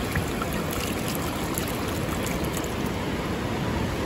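Wet beach sand and seawater swish and drain through a cheap dollar store colander on a San Diego County beach, a continuous rushing, gritty wash with surf-like noise throughout.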